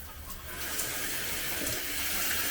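Water runs steadily from the shower in a youth hostel room, a constant hiss that swells slightly louder after the start, with no voices.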